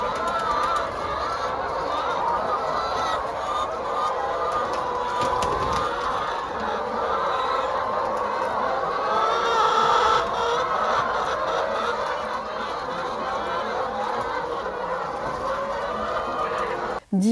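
Steady chorus of many hens clucking and murmuring together, loud and continuous throughout, with no pauses.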